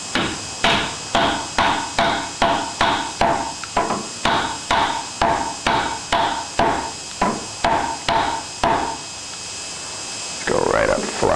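A hammer taps a metal landing-gear bushing in a steady, evenly spaced series of about sixteen sharp strikes, then stops, leaving quiet room noise.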